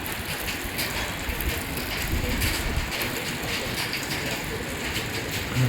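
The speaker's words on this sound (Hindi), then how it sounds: "अभी तक बारिश चल रही है" Steady rain falls and patters on surfaces outdoors in cloudy hill weather, a continuous dense hiss with faint scattered drips, no voices.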